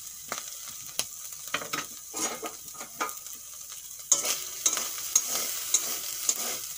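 Prawn shells and heads fry in a pan, a steady soft sizzle broken by regular scraping stirs and sharp little clinks of the spoon against the metal.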